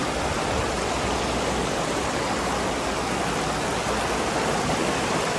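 Mountain stream water flowing over stones at Shivkhola, Rongtong, a steady broadband rushing wash that fills the whole clip without a break.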